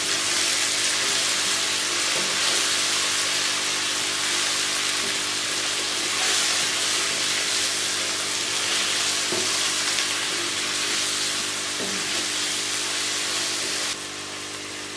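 Potatoes, peas and carrots with spices roast in a hot pan, a loud steady sizzle and crackle running throughout, with occasional soft scrapes of stirring and a slight drop in level near the end.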